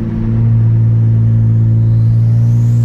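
A tuned BMW 335i with a turbocharged engine pulls hard, a loud, deep, steady drone heard from inside the car with a faint rising whine, no talk.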